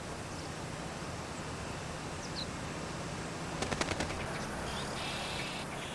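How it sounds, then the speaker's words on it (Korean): A great spotted woodpecker on a pear tree drums one short, rapid burst of taps partway through, standing out over a steady outdoor background hiss. "용케 배나무에 둥지를 튼 오색 딱따구리."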